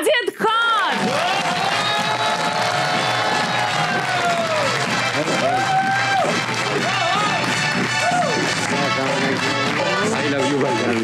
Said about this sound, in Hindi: तो आपकी भरपूर तालियों में वाजिद खान।